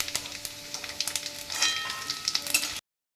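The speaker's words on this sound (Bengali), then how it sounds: "নারকেলগুলো আমি তেলের মধ্যে দিয়ে দিলাম। এগুলো আমি ভেজে তুলে নেব।" Chopped coconut fries in hot oil in a wok for a vegetarian chana dal, giving a close, crackling sizzle full of small pops that swells midway and stops abruptly.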